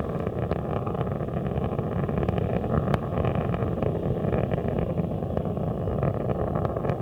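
Space Shuttle Atlantis's three liquid-fuel main engines roar during a night launch on mission STS-104, throttling back as it climbs through the sound barrier; a steady, dense, distant rumble holds without a break and no voices are heard.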